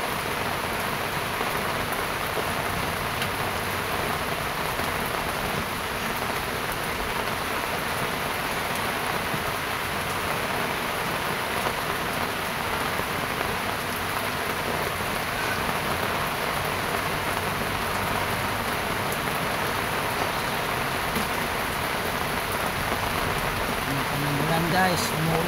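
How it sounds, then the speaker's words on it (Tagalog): Steady rain falls continuously for the whole stretch, a dense even hiss close around with no letup, while a person on the way home from work, unable to set out goods to sell, stays quiet. "Guys, umuulan pa, umuulan."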